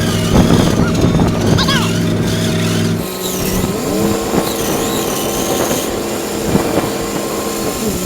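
A Ford F250 and Power Wagon engine labors loudly while winching a stuck skid steer, a steady roaring drone with shifting pitch and revving, with a few voices speaking over it.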